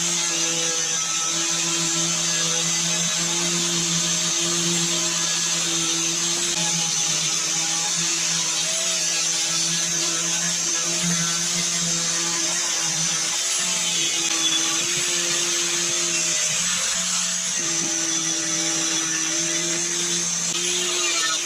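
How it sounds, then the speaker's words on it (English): An angle grinder removes surface rust from a Honda Civic Type R FN2 rear beam, giving a continuous high-pitched whine that holds steady for over twenty seconds, with a brief dip when the disc load changes. "let's see how we do with the angle grinder"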